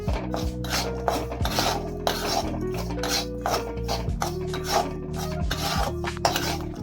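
A spoon scrapes and clinks steadily around a pan while ghee and jaggery are stirred over a low flame for a sesame sweet, with close, repeated rasping strokes and light metallic taps in an uneven rhythm.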